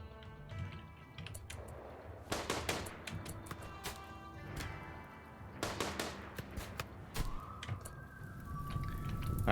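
Gunfight in RimWorld with everyone armed: sharp scattered gunshots and short rapid bursts, some in close clusters, over a busy background of game sounds, with no talk.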